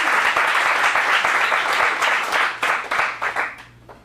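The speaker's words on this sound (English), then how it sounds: "Let's get a round of applause." An audience at an adult acting showcase applauds steadily, a dense wash of clapping that thins and fades toward the end.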